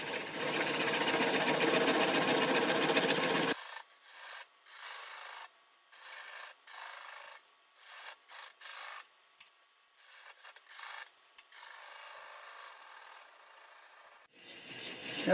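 A wood lathe turns a large, fairly soft walnut slab at about 450 RPM, giving a steady rushing, scraping cut that drops to quieter intermittent scraping and rubbing.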